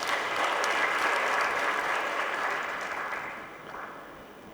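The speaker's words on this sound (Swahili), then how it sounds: "Tuwapigie makofi viongozi wetu." Sustained applause from a conference audience in Tanzania honoring leaders, a loud, even wash of clapping that slowly fades toward the end.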